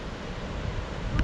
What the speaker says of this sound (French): Très belle cascade.